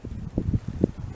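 Wind gusts buffet the microphone outdoors in a cedar bush on a cold day, a low rumbling roar that swells and fades in short bursts, with no talking.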